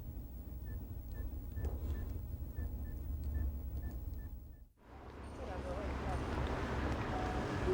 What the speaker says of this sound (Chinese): 还要打个电话给晴美才行。